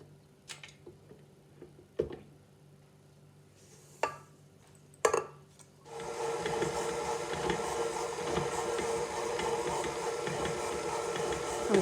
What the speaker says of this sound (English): I'm going to cream the butter for about 2 minutes.